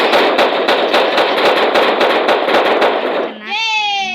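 Dual guns fire in the game Blox Strike, a fast rapid-fire burst of shots that runs steadily for about three seconds and then stops, followed by a short tonal effect.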